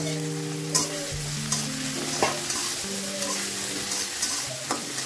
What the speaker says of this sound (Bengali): আমি এখন চিংড়ি মাছগুলো দিয়ে দিব।